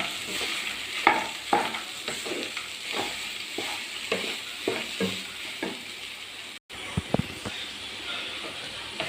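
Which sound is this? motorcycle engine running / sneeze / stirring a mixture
stirring a mixture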